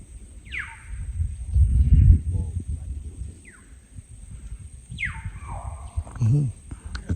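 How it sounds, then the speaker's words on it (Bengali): Several sharp, high fear calls from deer in the Sundarbans ring out at intervals in the distance, over low rumbling, rustling, and a voice. "ওই যে হরিণ দেখছো কি চিৎকার করতেছে"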